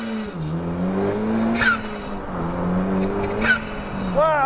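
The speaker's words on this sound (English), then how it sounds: "While I've got no one in my mirrors, I'm going to initiate launch control." An Ariel Atom 4 launches hard under launch control, its engine roaring loud and close as it climbs through the revs, with quick gear changes cutting in before the pitch rises again.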